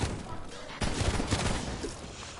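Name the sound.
shotgun blasts at zombies in a video game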